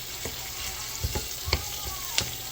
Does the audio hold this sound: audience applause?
no